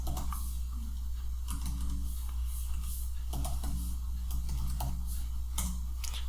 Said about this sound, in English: So now let's type in a command java-version to find out the JDK version.